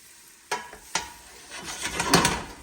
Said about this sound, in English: So let's just stir that around a little bit. Get those onions and that garlic started.